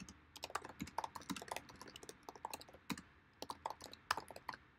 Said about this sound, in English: I'll just type it then.